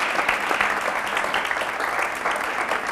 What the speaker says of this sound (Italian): Chiedo subito un applauso ai nostri ragazzi.